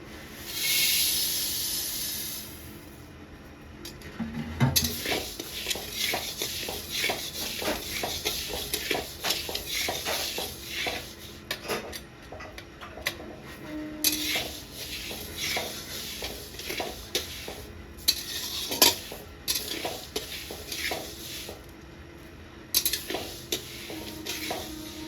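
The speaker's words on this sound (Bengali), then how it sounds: "আমি শুকনো কড়াইতে ডালটাকে ভেজে নিচ্ছি" Dal is dry-roasted in a dry wok, stirred continuously with a spatula that scrapes and rattles the grains in a steady rhythmic shuffle, with a faint hiss at the start and no talking.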